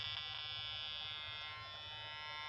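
A steady, fairly faint electronic buzz from the speaker of a Pirat metal detector after resoldering, holding an unbroken tone for a couple of seconds.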